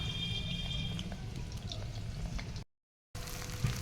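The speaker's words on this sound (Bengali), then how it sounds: "ক্যাপসিকাম দিয়ে দিলাম" Capsicum sizzling in a pan over a wood fire, a steady, soft crackling hiss with faint pops that cuts out briefly near the end and then resumes.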